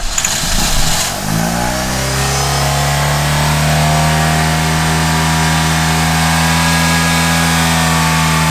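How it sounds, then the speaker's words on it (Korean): Cheap old four-cylinder race car running on only two cylinders, its engine cranking and catching, then rising into a loud, close, sustained rev with a rough, steady drone. "시동이 걸렸어요."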